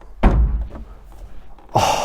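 The light door of a Ferrari SP1 hypercar is pushed shut with one firm, close thud, followed a moment later by a burst of breathy noise.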